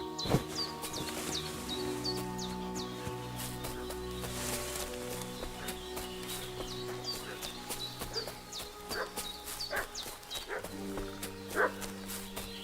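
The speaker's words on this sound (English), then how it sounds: "What's that dog making such a fuss about?" Dog barking in Kingdom Come: Deliverance II, repeated sharp barks at a moderate distance over faint ambient game sound and soft rhythmic thuds, with no talk.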